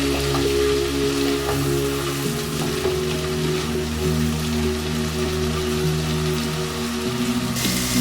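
Mustard sizzles in a pan while being stirred for a Bengali puti fish curry, a steady close crackle like rain, with a low mechanical hum running underneath.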